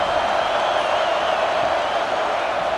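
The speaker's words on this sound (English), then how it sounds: "This crowd bringing the energy and noise early" College Football 26 stadium crowd roars in a dense, constant wash of noise, loud and unbroken throughout.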